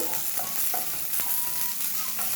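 Green peas frying in a pan for coconut rice, a steady close sizzle with soft scraping from a stirring spoon, fairly even and without talk.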